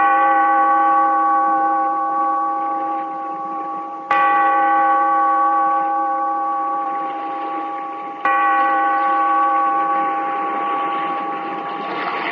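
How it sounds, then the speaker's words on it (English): A deep bell tolls slowly in a 1944 radio drama, three resonant strikes about four seconds apart, each humming on and overlapping the last as it rings out. "Bellkeeper, toll the bell, so that all may know we are gathered again in the weird circle."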